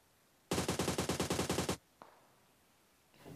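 A rapid burst of about a dozen automatic gunshots rings out in the mobile battle royale game PUBG Mobile, fired through smoke. A single faint shot follows, then a soft rustle.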